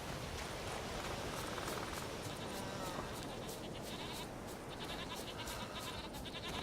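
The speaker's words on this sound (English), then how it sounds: "Mountain goats." Mountain goats bleat in the Fyresdal area of the video game The Witcher 3, with faint, scattered calls over a steady hissing outdoor ambience.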